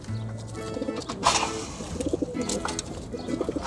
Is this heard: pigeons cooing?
yes